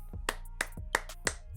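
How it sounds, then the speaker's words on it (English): Four sharp hand claps ring out close and clear, spaced in a steady rhythm with no talking over them. "I know you told me not to clap"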